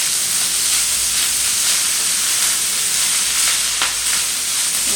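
Fried rice being mixed with sautéed eggs in a hot pan, giving a loud, steady sizzle and hiss with faint scraping stirs throughout, close up and without talk.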